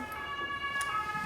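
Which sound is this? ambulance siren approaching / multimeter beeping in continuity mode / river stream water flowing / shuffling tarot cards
ambulance siren approaching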